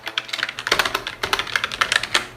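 A name being typed on a computer keyboard, with a rapid irregular run of crisp, close key clicks and no talking.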